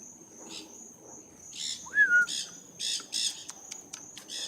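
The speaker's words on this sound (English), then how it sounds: "It's a parrot." Harsh squawking parrot calls in short bursts, one after another, over a steady high mosquito whine and faint outdoor background.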